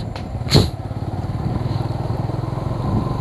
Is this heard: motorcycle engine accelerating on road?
yes